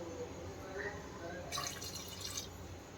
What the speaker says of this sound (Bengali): মশলার জলটা আগে দিয়ে দেই